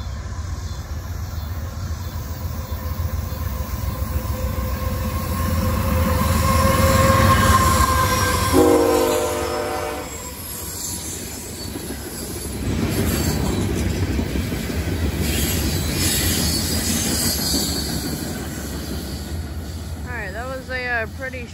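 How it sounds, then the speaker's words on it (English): A short CSX stone train rolls past at Brunswick, a loud near rumble of wheels and cars building and fading, with a brief horn blast partway through and squealing wheels near the end. "that was the CSX stone train at Brunswick"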